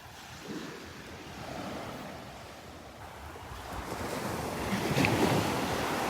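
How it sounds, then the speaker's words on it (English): Ocean surf rolls onto Delnor-Wiggins beach in Naples, a steady close wash of breaking waves that swells louder toward the end, mixed with gusty wind buffeting the microphone. "This is my favorite beach in Naples."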